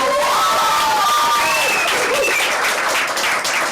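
A crowd claps and cheers loudly and continuously, with a few higher shouts and whoops rising above the dense applause.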